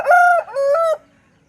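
A rooster at a weekly village chicken market crows loudly and close by, two strong drawn-out sustained calls back to back, then quiet.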